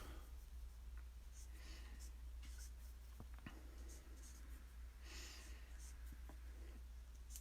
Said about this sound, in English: I'm going to draw his jawline here